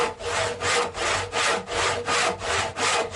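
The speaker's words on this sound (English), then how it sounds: "Cut them with a handsaw." A handsaw cuts through a wooden workbench leg in a steady rhythm of about seven close, loud push-pull strokes, each a bright rasping sweep, with no voices.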